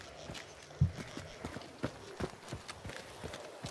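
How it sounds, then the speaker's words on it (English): A horse's hooves clip-clop in a video game, a faint, fairly regular series of soft thuds at a distance, with a slightly louder knock near the start. "Oh, a horse to the northwest."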